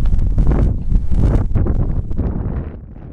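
Strong outdoor wind buffets the microphone in a loud, continuous low roar with gusty surges, easing slightly toward the end.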